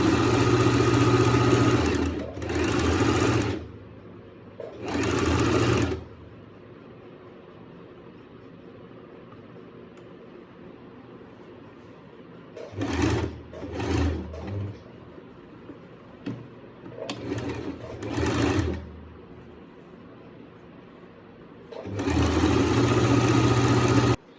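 Sewing machine stitching the cuff of a salwar, running in several loud bursts of steady mechanical whirring separated by quiet pauses, with shorter stop-start runs in the middle.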